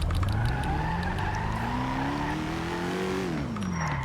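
Car engine in the video game GTA on a NoPixel server, revving hard and climbing in pitch as the gears shift too quickly, then dropping, with tires squealing and skidding throughout, loud and close.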